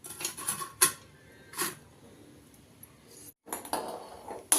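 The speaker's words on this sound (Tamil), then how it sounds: "இந்த ஸ்டாண்டு வச்சிடலாம்." A metal stand is set into a salt-lined pot for baking a white forest cake, making several close, sharp metallic clinks and clatters separated by quiet gaps.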